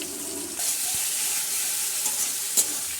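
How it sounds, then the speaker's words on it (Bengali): Chicken pieces coated in soy sauce and vinegar hit a pan of frying onions, a loud, steady close sizzle with a brief stirring clatter, no voices over it. "এরপর মা চিকেন দিয়ে দিচ্ছে।"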